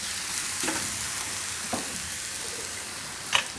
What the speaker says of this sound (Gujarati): આ રીતે હવે આને આપણે બીજી બાજુ ફેરવી લેવું.